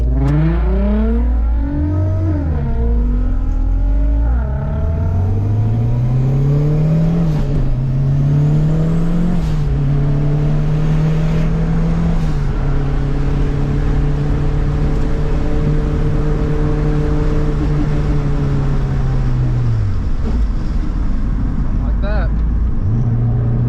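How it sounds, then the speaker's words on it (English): A turbocharged Acura RSX on a race track revs loudly through its gears, the engine note rising and falling with a rough grinding shift into second gear, while a driver talks over the continuous roar. "So what you just heard was my second gear grinding once again."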